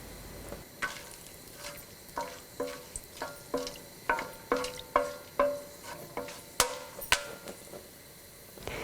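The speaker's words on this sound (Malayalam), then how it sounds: "എണ്ണ ചൂടായി കഴിയുമ്പോൾ ഇതിലോട്ട് നമ്മൾ എടുത്തു വച്ചിരിക്കുന്ന ഹോൾ സ്പൈസസ് ഇട്ട് പൊട്ടിക്കുക." Whole spices crackle and pop in hot coconut oil, a quick series of sharp, close snaps over a low sizzle, growing busier midway before thinning out.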